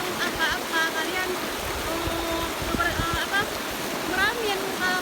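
The river at Pantai Limeng in the Pidie Jaya forest of Aceh flows with a continuous rushing wash, and voices talk intermittently over the water noise.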